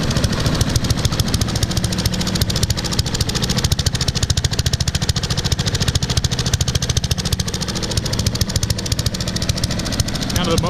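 A small gasoline engine on a Troy-Bilt CS4325 chipper shredder runs steadily nearby after repair, a loud continuous rough drone with rapid pulsing throughout.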